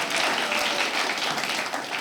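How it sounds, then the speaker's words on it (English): Comedy show audience giving a round of applause, dense steady clapping from a crowd that fills the room at moderate volume without a break. "give yourselves a round of applause"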